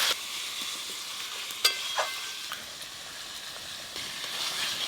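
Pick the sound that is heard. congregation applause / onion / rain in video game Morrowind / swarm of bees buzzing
onion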